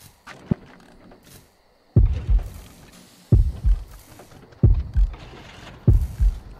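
A heavy, booming heartbeat effect from the horror game Horrorfield pulses in doubled thumps, roughly one pair every 1.3 seconds after a quieter opening, loud and close with no speech.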